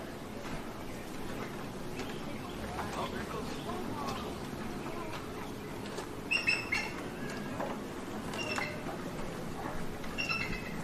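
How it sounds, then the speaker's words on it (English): Bald eagles calling at Oakland Zoo, a few high, thin chirping calls standing out from around six seconds on over a steady outdoor background murmur, with speech detected nearby. "Can you hear those calls they're making? That's what bald eagles actually sound like."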